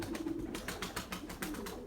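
Tumbler pigeons coo in a low, repeated warble close to the microphone, with soft fluttering and scuffling of the birds landing mixed in over a steady background.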